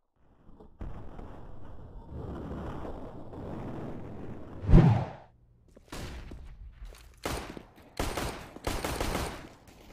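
Gunfire in Counter-Strike: a rumbling burst, then one loud sharp shot, followed by several separate crisp shots near the end, close and punchy with no voices.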